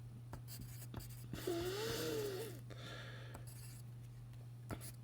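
Pencil or marker writing numbers by hand during a math lesson, a soft scratchy stroke lasting about a second amid quiet room noise and a steady hum, with no talking.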